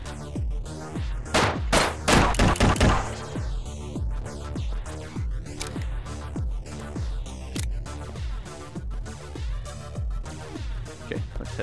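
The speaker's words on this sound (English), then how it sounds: "Oh no, somebody's shooting at me." Gunfire in the Shotwood VR game rings out as a rapid run of sharp, loud shots, thickest early on and then spaced into a steady staccato of cracks over a musical, humming game backdrop.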